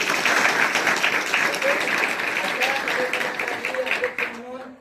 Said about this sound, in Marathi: तुम्ही सर्वांनी या सर्वांबद्दल पण टाळ्या वाजवल्या